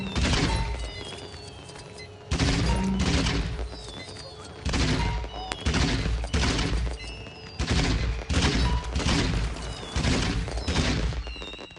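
A weapon in LEGO Star Wars fires a shotgun-like spread in heavy, booming bursts. Clusters of blasts hit hard with short gaps between them, and a voice talks faintly underneath.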